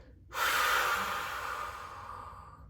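A single strong exhale through the nose and mouth during a core-engagement exercise, a close, breathy rush of air that starts abruptly and slowly fades over about two seconds.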